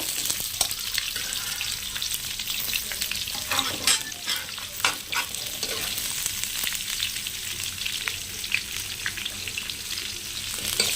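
Sliced onions sizzle steadily in hot oil in a pan for an egg curry, with repeated stirring scrapes over the constant close frying hiss and no talking.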